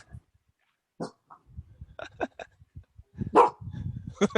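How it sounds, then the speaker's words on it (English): A Great Dane lets out several loud, deep barks in uneven bursts, with a sharp peak near the middle, set among quieter whimpering and snuffling sounds close by. "He has a loud ass bark too."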